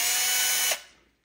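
A ratchet on a wobble extension works a 13mm nut and bolt during a VW Bug engine teardown, giving a loud, dense burst of clicking for under a second before it cuts off, with a faint click right at the end.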